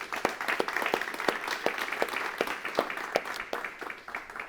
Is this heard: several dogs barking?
no